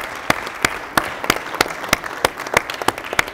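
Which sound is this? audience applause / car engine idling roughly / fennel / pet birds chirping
audience applause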